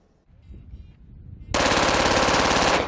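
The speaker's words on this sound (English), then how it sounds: "Rapid fire, multiple rounds let loose with a single squeeze of a trigger." A handgun converted to fully automatic with an auto sear switch unleashes a loud, dense burst of rapid gunfire lasting over a second, following quieter rumbling and scattered noise.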